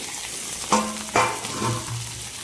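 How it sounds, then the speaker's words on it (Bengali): Tomato, ginger and spices cooking in a pan with a little water added make a soft, low sizzle, broken by two sharp clinks of a utensil against the pan. "টমেটোটা দিয়ে দিয়েছি, একটু জল দিয়ে দিচ্ছি, কারণ টমেটোটা একটু গলবে, মশলাটা একটু সেদ্ধ হবে"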